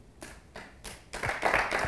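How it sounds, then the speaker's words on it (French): A few slow, separate claps come first, then louder, fuller clapping from several hands joins in, close and building over a couple of seconds. "C'est Montesquieu qui a applaudi."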